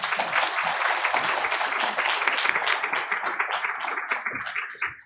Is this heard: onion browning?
no